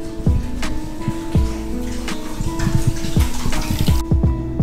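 Hot water runs into a bathtub, splashing and gurgling close by with irregular bubbly plops and a steady rushing underneath, and no talk over it.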